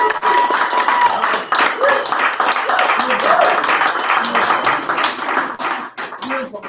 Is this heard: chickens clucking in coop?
no